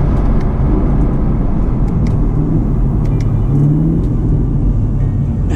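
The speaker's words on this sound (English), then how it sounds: "I'm gonna downshift it now, watch." A 2019 Chevrolet Camaro ZL1 1LE automatic, driven in manual mode, downshifts on the road with a loud, close engine rumble and whir that swells briefly as revs rise under steady road noise.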